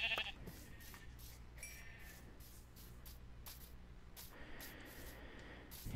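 In Minecraft, sheep bleat as short, repeated calls over quiet background game noise, with no voices.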